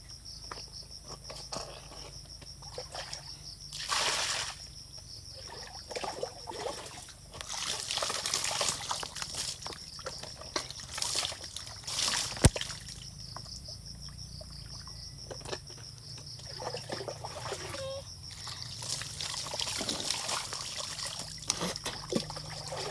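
Water trickles and splashes steadily as someone bathes outdoors, with loud cricket and insect chirping filling the background throughout.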